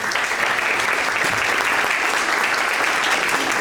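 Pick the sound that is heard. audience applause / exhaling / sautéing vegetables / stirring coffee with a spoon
audience applause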